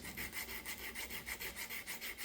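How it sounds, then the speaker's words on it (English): Rapid back-and-forth scratchy rasping of sandpaper on a hand-carved wooden electric guitar body, about six strokes per second, steady and close. "keep sanding it until it's flat and that it looks good."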